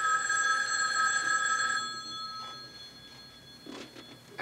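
A telephone rings in a quiet room in a 1991 TV thriller, a bright electric bell trill heard alone, then stopping partway as faint rustling follows.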